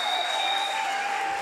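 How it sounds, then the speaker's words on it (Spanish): A live audience claps in a dense, steady burst of applause at a comedy show, loud and sustained throughout without a break. "Démele un aplauso que se va a casar."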